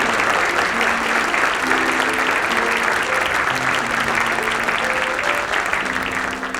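Sustained applause from a large awards-ceremony audience at the AFTRA 50th Golden Anniversary Awards, dense and steady throughout, with faint tonal music or voices underneath.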